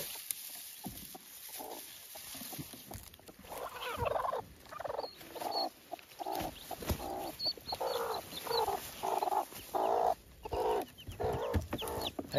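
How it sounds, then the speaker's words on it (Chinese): Newly hatched chicks peep beside brooding hens, with repeated bursts of clucking and chirping that grow livelier and denser after the first few seconds, close and fairly loud with a constant high background hiss. "七只都是刚刚孵化出来"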